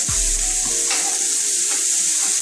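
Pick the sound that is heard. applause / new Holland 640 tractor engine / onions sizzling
onions sizzling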